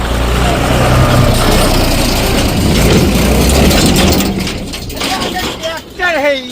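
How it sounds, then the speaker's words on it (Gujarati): A turbo tractor engine runs with a loud rattling, mechanical rumble that holds steady and then dips, while people talk over it toward the end. "ટ્રેક્ટર હે યાર, ટર્બો તો હે."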